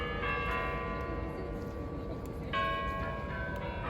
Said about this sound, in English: The Kremlin bell is ringing for me just in time.